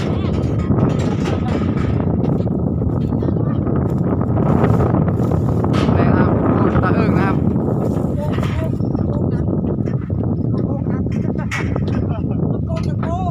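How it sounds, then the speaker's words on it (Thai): Strong gusting wind batters the microphone outdoors at a rural house in Surin, Thailand, a loud continuous roar and rumble under someone talking throughout. "วันนี้ลมแรงลมค่อนข้างแรงนะครับ"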